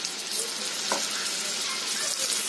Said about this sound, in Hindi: ऑयल को इस तरह चारों तरफ फैला देंगे और ये कोफ्तों को फ्राई कर लेंगे